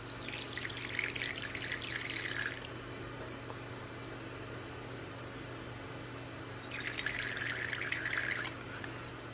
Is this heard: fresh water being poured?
yes